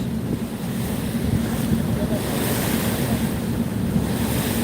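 River waves churn behind a passenger launch, a continuous roar of rushing water and wind buffeting close to the microphone, steady and loud without a break.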